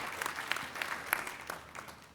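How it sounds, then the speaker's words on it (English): A conference audience at a healthcare panel breaks into brief applause, scattered claps forming a light, uneven patter that fades after about two seconds. "Let's give a round of applause for Dr."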